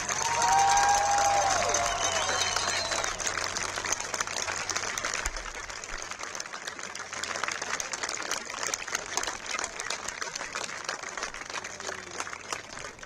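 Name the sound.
crowd applause at a football field dedication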